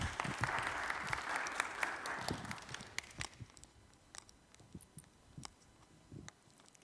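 An audience applauds warmly to welcome a speaker to the stage at a Rescuing Our Children event, with dense clapping that holds steady for a few seconds and then thins into scattered claps.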